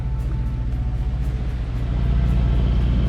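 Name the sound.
sailboat engine running while motoring up the coast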